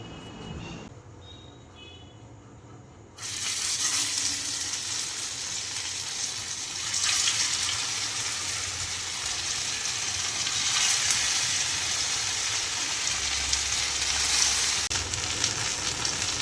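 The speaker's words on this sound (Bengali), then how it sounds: "একটুখানি সময় নিয়ে এপিট ওপিট করে ভেজে তুলতে হবে" A hand-shaped patty fries in hot oil, first a quiet lead-in and then, after a sudden onset, a steady close sizzle and crackle that carries on without talk.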